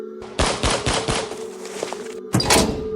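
A gunshot effect in a Filipino horror story narration: a burst of sharp, loud cracks in quick succession, then a second blast after a short pause, with no speech over them.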